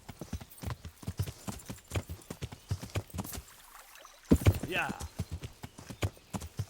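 Horse hooves clip-clopping in the medieval video game Kingdom Come: Deliverance, a steady rhythmic trot close up with a brief whinny-like sound, while someone talks over it.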